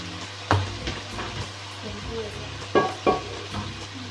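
Chicken frying in a pan for Dhaba-style maash daal, a soft continuous sizzle broken by several sharp scrapes and clacks of a spoon stirring against the pan.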